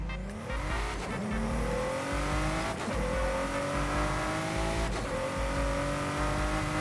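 A BMW race car in the Forza Motorsport game, its engine and exhaust revving hard and climbing through gears in repeated rising sweeps, loud and close with no talking.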